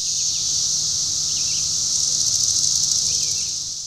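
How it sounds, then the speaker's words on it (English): Seventeen-year cicadas swarming during an infestation produce a dense, continuous, high-pitched buzzing drone that holds steady and loud throughout, with no talk. "The sudden appearance of the 17-year cicadas may no longer inspire the wrath of God visions of less enlightened times."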